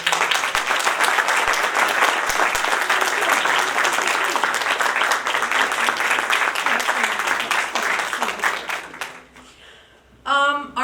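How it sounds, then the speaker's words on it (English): An audience applauds at a college evening event honoring Muhammad Ali, with loud, sustained, dense clapping that fills the room and then fades away near the end. "Uncle Mustasim, please stand up so everybody can applaud."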